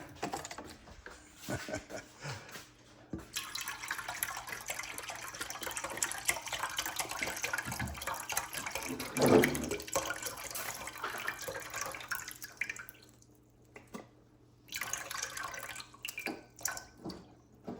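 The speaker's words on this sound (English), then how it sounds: "And I will add water as well." Water pours steadily from a tap into a cooking container for several seconds, a close, continuous splashing rush that stops, then resumes in shorter bursts toward the end.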